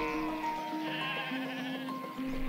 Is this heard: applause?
no